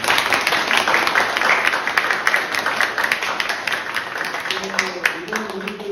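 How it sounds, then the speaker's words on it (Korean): A steady wash of audience applause at a school academic festival runs unbroken for several seconds, dense and fairly loud, with a voice sounding faintly near the end. "박수 한번 보내주십시오"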